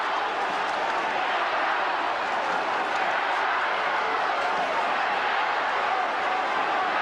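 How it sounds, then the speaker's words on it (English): A packed crowd roars and cheers steadily at Moorabbin football stadium during a 1992 St Kilda v Footscray match, a dense, continuous wall of noise from start to finish. "The crowd certainly has found voice."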